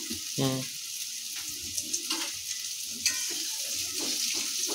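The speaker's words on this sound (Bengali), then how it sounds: "একবার ভাজি 2বারে ভাজি, তাই না?" Small chushi pitha dumplings frying in oil, with a bright, busy sizzle and stirring clatter. A voice cuts in briefly near the start.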